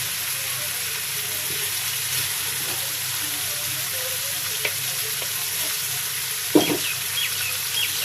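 Potatoes and green chilies frying in a pan, a soft, even sizzle throughout with a few light scrapes and one sharp clatter of a utensil near the end.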